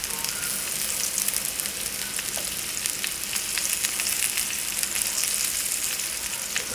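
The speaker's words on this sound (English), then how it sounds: "As long as you're hearing that little sizzling, then you know it's cooking." Beef tips seasoned with balsamic vinegar sizzle steadily in a frying pan, a continuous close crackling hiss with faint pops and no voices.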